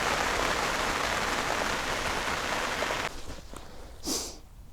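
Heavy rain pours down at a carp fishing swim, a dense, close hiss that abruptly eases partway through, leaving lighter patter and a brief rustle before quieting.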